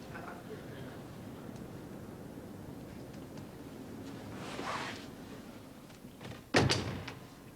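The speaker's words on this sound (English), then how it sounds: "Opening the door." Door being opened indoors: soft handling and a swishing movement, then a sharp latch click and thud near the end, fairly quiet against low room hum.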